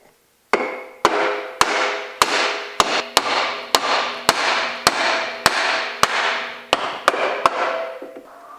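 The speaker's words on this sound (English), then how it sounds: "take a hammer and tap out the shaft so that the cutter head can" A hammer taps a cutterhead shaft out through a piece of wood, striking about fourteen sharp, evenly spaced blows, each ringing briefly with a metallic tone before the next hit.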